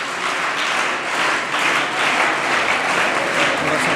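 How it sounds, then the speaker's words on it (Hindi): An audience at a Hindi talk event bursts into loud, sustained applause, a dense wash of many hands clapping close by without a break. "चलो आपके लिए भी एक बार जोरदार तालियां हो जाए"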